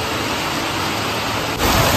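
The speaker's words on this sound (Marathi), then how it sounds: "एकदम असा रिमझिम पाऊस पडतोय" Rain falls steadily outdoors in cloudy weather in the Konkan countryside, a dense, even hiss that grows louder near the end, with no voices.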